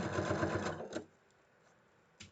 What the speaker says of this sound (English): And stitching right along.